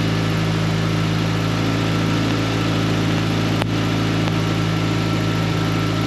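A vehicle engine idles steadily with the choke pulled out to richen the mixture, a loud continuous low hum with a faint click partway through and no talking.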